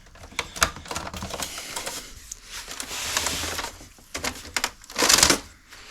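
A Brother MFC-J6520DW inkjet printer runs through a cycle, giving rapid clattering mechanical ticks, a steady motor whir and a louder burst of feed noise near the end, close and alone.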